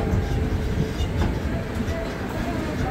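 The Mithila Express pulling into Raxaul Junction platform 2, a loud continuous rumble of rail cars close by with steady wheel noise and no clear talk.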